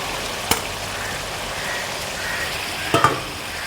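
Chopped potato, carrot and onion sizzle and fry in a pan as they are stirred, a soft steady hiss with a couple of sharp utensil scrapes against the pan.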